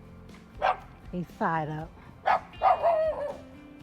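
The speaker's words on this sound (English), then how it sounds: "There's a dog that wants to bark at me." A tied-up dog at a Bear Lake Campground in Florida barks several times in short, sharp bursts at moderate distance, while someone talks over and between the barks.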